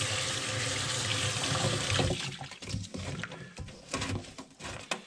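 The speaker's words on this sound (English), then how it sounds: "I'll give you a little more water." Water gushes steadily onto coconut coir for about two seconds, then breaks into wet splashes and soggy squelching bursts as the fibrous material soaks it up, close and fairly quiet.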